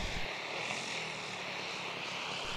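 A purpose-built radio-controlled tow plane drones steadily with a loud propeller engine during a glider aerotow, a sustained buzzing hum that holds an even level throughout, with no talking.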